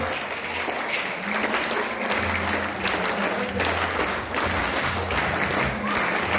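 An audience at a lively Turkish folk music gathering claps steadily in rhythm, a continuous wash of hands with music and voices underneath, loud and close throughout.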